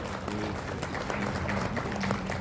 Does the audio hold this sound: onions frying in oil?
no